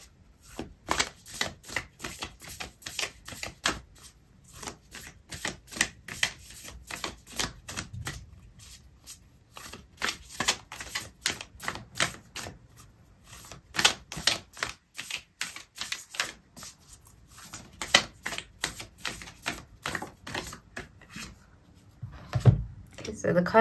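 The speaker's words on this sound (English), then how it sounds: "I'm going to pull out an oracle card for you" Oracle cards being shuffled and drawn from a deck during a tarot reading, a long run of rapid crisp riffling clicks and flutters that come in bursts with brief pauses, close and fairly quiet, with no talking over them.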